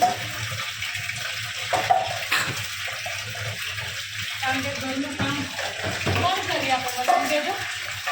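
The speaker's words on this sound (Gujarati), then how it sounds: "અહીંયા રાધા કપડાં ધોઈ રહી છે" Clothes are washed by hand with water, sloshing and splashing steadily while people talk over it.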